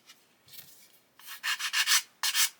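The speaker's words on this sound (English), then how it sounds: "so if I sand over here, I'm not going to ruin the finish on those lights" Sandpaper is rubbed over a plastic Airfix 1/72 Lancaster B.III model kit: a faint first stroke, then a cluster of quick, close, scratchy strokes and one final short rub, with no talking.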